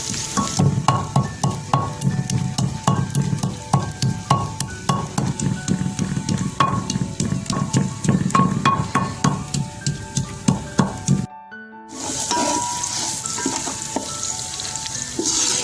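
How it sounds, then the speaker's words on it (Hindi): Onions frying in hot oil until brown for a chicken and pea pulao: a loud, dense, continuous sizzle and crackle with frequent stirring clicks, cut by a brief pause near the end before the frying resumes. "प्याज देखें हमारे ब्राउन होना शुरू हो गया।"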